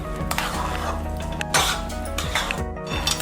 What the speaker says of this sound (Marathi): परतून परतून मिल्क पावडर त्याच्यामध्ये पूर्ण आपण मिक्स करू